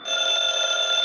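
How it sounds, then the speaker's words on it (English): A telephone rings in a steady, shrill, continuous electronic tone that holds close and loud for about a second with no voices over it. "I believe that's the phone."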